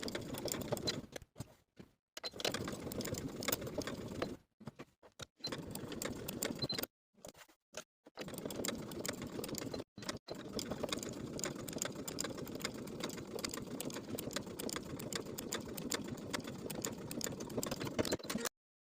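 A sewing machine stitches down the open edge of a linen shirt placket in repeated runs, a close, steady mechanical whir broken by several short stops and restarts, with no voices.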